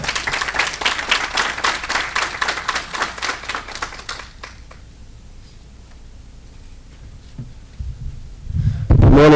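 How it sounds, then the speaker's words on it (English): An audience at a maternal health summit claps warmly for about four seconds, a dense patter of many hands that fades out into a quiet room, with faint shuffling and movement near the end. "Please give a round of applause"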